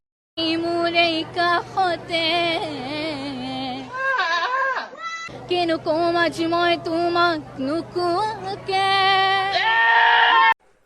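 Wavering, nasal goat bleats sound repeatedly over a woman's singing, loud and close, arriving in long quavering phrases with short gaps between them.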